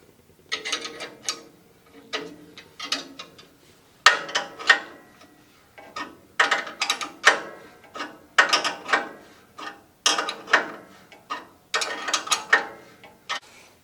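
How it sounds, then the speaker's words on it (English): Wrench ratcheting as it tightens and holds a cable on a Woodland Mills bandsaw, close and fairly loud, in short bursts of rapid clicking with brief pauses between strokes, with no talking. "You want to hold your cable, don't let it spin. If you need to, you can stick a screwdriver in there. I'm going to hold it with another wrench."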